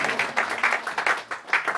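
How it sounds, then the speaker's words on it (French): Applause in a church as the congregation acclaims the Lord, moderately quiet clapping with uneven bursts and a slight murmur of voices beneath. "Donnons une acclamation au Seigneur."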